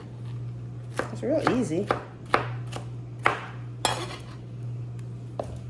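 A knife chops pineapple on a board in sharp, separate knocks spaced about a second apart. Someone speaks briefly over a steady low electrical hum.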